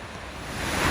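Rushing water from a waterfall seen from right underneath it, a steady broadband roar that swells slightly louder toward the end, with no talking.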